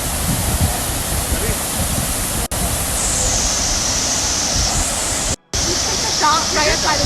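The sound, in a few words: Decew Falls waterfall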